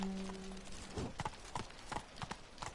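Roach, the horse in The Witcher 3, gallops with quick, rhythmic hoof clip-clops, preceded by a brief tonal hum; the hoofbeats are moderately faint and steady, with no talking over them.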